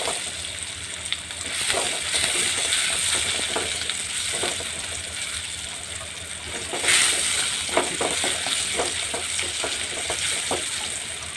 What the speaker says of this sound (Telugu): ఆయిల్లో వేయించండి